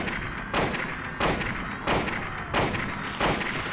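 Gunshots from a weapon fired at a monster in Silent Hill: heavy, booming shots repeating at a steady pace, about five in a row over loud, dense background noise.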